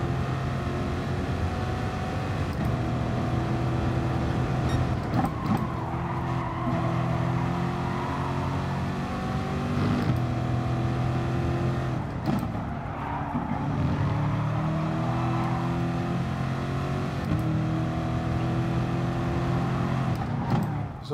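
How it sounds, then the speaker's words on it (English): Race car engine in a racing video game at Brands Hatch, heard from a front-mounted camera view: a loud, continuous engine drone whose pitch climbs and drops with revving and gear changes, with no talking over it. "Plus, I think the engine noise from this camera is the best."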